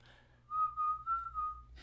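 A person whistles a short, steady melodic phrase of four or five connected notes, close and fairly quiet over a low background hum.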